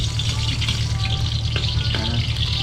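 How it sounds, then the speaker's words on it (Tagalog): Garlic fries in cooking oil in a pan, a steady, close hiss and crackle of sizzling that runs without a break over a low background hum. "Lutuin mo lang yung bawang ng konti mga kanter."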